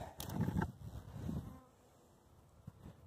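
Bees buzzing in an open hive during an inspection, a close, uneven drone that is strongest at first and then fades to a faint hum.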